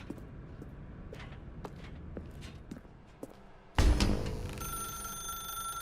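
A telephone rings in the video game The Stanley Parable, a sudden loud bright electric ringing tone that starts midway after soft scattered footsteps and taps, then sustains at a steady level.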